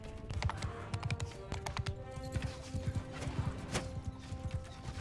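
Horse hooves clip-clop in a steady, brisk rhythm in the Realm of Thrones video game, close and fairly loud for the whole stretch.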